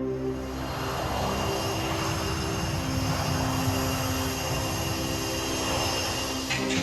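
A passenger jet's engines roar loudly and steadily through a takeoff run, a constant heavy drone with a whining tone and no voices.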